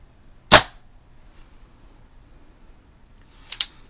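A Daisy Red Ryder or Barra 1858 CO2 pistol fires: a single sharp close shot comes first, then after a quiet pause a quick pair of snapping cracks sounds close together, with no talking.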